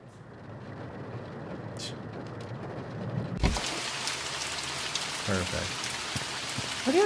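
Steady rain at night in the video game The Mortuary Assistant, first a soft hiss that jumps suddenly to a louder, fuller downpour, with a few faint knocks near the end.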